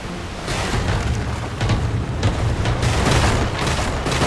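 Booming cannon fire from a pirate ship in the naval game Pirate Commander, several heavy blasts rolling together over a steady low rumble of sea and battle noise.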